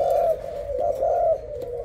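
A Thai dove coos in a low, soft repeated rhythm, three or four rolling coos close by with no talk over them.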